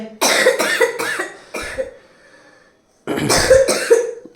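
Several sharp coughs in a quick burst, a short pause with a couple more, then another cluster of loud, close coughs after a brief silence.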